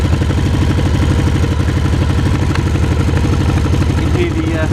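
A motorcycle engine idles close by, its Scorpion exhaust burbling in a steady, loud, pulsing rumble throughout.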